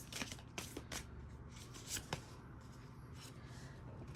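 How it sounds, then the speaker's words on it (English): Tarot cards shuffled by hand in a quick burst of riffling and flicking, close and fairly quiet, followed by a lull of softer handling. "Cards be bouncing all over the place."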